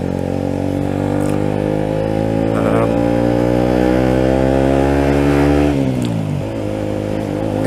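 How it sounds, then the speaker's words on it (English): Motorcycle engine fitted with a Lextech back box exhaust with the baffles removed, idling loud and steady with a strong harmonic drone, then the pitch dips briefly near the end; speech mixes in faintly. "sounds quite nice. I've got a Lextech back box on it with the baffles taken out"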